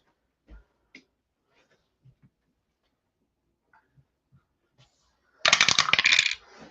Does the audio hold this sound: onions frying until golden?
no